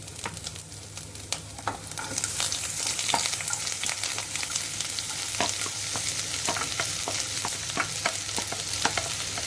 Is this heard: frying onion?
yes